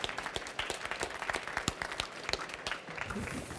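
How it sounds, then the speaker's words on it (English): A seminar audience applauds panel speakers with steady, dense clapping from many hands, a busy crackling patter that holds for several seconds before thinning slightly at the end. "these two deserve a big round of applause for sharing so much with you"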